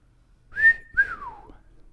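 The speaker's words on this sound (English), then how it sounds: "Ivan lets out a whistle, and you and Alistair both jump." A man whistles a loud, close two-note call in a fantasy audio drama: a rising held tone, then a second note sliding downward, alone over near silence.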